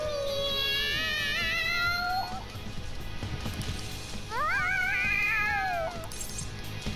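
Cat in the video game Persona 5 Royal meowing excitedly: two long, rising and wavering meows, loud and close over a steady game background hum.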